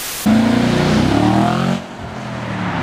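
Audi RS 5 Cabriolet engine rated at 450 horsepower and 430 Nm, revving hard close by with a rising roar that holds for over a second before dropping back to a steady idle hum.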